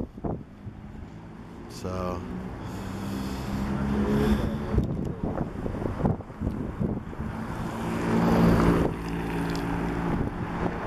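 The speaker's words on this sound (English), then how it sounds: "it's getting really windy" Strong wind buffets and roars across the microphone in heavy gusts on a street in Moscow, Russia, with a person talking briefly underneath.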